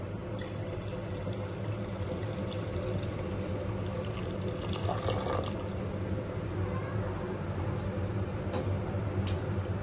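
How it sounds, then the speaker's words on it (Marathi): Five cups of hot water pour steadily into a prawn rice mixture in a pot, a continuous close liquid rush lasting throughout with no talking. "यामध्ये आपण गरम पाणी घालणार आहोत 5 वाट्या."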